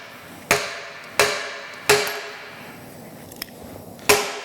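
Four loud metallic hammer blows knocking a cast Babbitt/lead hammer out of its mold, spaced about a second apart, each ringing briefly, with a faint lighter tap between the last two.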